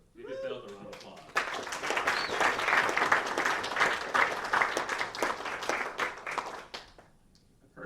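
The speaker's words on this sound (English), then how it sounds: "So give yourselves a round of applause." Audience applause at a Toastmasters District 106 awards dinner, bursting in after a short spoken line and holding as dense, loud clapping for about five seconds before tapering off.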